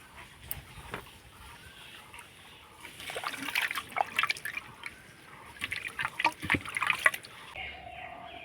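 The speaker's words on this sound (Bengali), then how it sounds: "তো জল দিয়ে আমি আলুটাকে পরিষ্কার করে এভাবে করে ধুয়ে নেব" Water splashing and trickling over a raw potato being rinsed clean in a kitchen, a soft steady flow with louder bursts of splatter in the second half and no voices.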